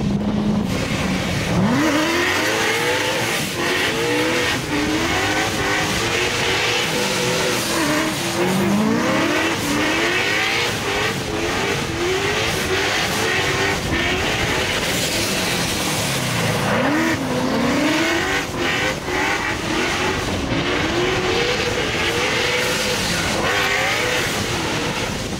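Ford Mustangs drift along a mountain pass, engines revving hard as tires squeal in repeated rising and falling bursts, loud and close throughout.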